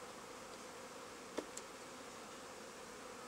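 Honeybees from a caught swarm buzz faintly and steadily at an opened hive holding the last brood, a soft, even drone at low level with a couple of brief clicks partway through.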